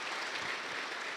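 Congregation clapping during a Protestant sermon, a dense, steady wash of many hands applauding together at moderate distance, filling the short moment with no voice over it.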